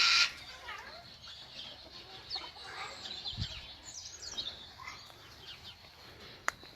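Chickens cluck faintly in a bird park alongside a yellow-headed Amazon parrot, with scattered chirps and distant calls from other birds under a voice.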